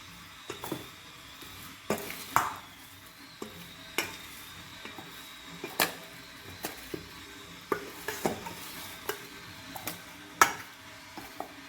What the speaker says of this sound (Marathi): पण चांगला हलवून घ्यायचा आता